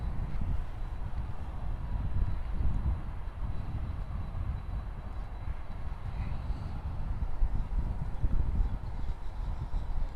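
Jet aircraft landing on Runway 7 at Miami International Airport, a steady broad engine roar heard from a distance with wind noise, continuous for the whole stretch without speech.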